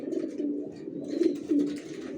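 Racer pigeons inside a loft giving overlapping low throaty coos, steady and close, with a few brighter flutters and rustles mixed in and no speech.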